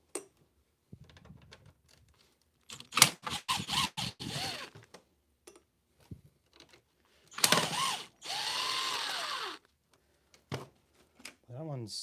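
A drill whirs in several short bursts and two longer runs while backing out small screws, loud and close, with brief gaps of silence between pulls.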